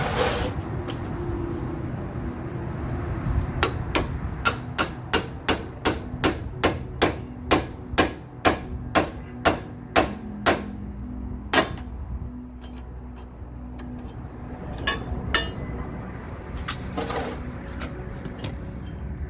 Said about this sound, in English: put it on there and smack it a few times with a hammer